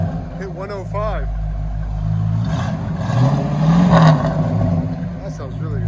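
Deep, lumpy idle from a 1973 Mustang Mach 1 V8 on true dual Flowmaster Super 10 exhaust builds into one loud rev around the middle, with a person speaking briefly at the start and end.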